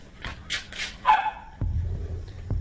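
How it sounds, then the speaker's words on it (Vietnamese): A dog gives a few sharp barks and yips up close, followed by a brief whimper and scuffling thumps, with only a faint voice nearby. "con Cookie nó dẫn con chó lại nên cắn chó nhà mình anh ạ"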